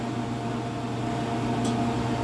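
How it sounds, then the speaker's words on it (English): Steady broadband whir of a kitchen exhaust fan running continuously during cooking, with a low hum underneath and no voices. "Got the fan on so the smoke detector doesn't go off"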